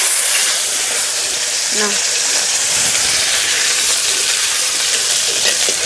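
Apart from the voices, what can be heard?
onion paste sizzling in hot oil with spices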